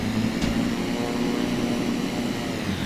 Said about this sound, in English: All right, so a performance takeoff.